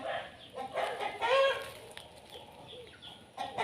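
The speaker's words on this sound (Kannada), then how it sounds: "ಈಗ ನಿಮ್ಗೆ ಮಾತಾಡೋದು ಕೇಳಿಸಿದೆ ಅದಕ್ಕೆ ಬೊಬ್ಬೆ ಹೊಡಿತಾ" Chickens in a village yard squawk and cluck in loud, agitated bursts, with several overlapping calls rising and falling across a few seconds outdoors.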